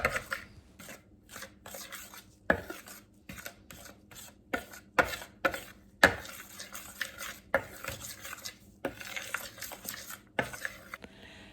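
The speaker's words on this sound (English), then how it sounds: "give it a good stir to combine all of the ingredients together well" Pumpkin roll batter ingredients stirred together in a bowl: a long run of close, rhythmic scraping and clacking strokes of a utensil against the bowl, steady and fairly loud with no talking.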